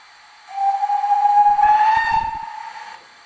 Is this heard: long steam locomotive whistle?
yes